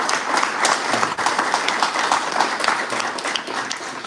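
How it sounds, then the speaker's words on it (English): A crowd applauds Thornton Township employees, producing steady, lively clapping that carries on for several seconds at an even loudness, with a slight drop toward the end. "Please give a round of applause for these Thornton Township employees."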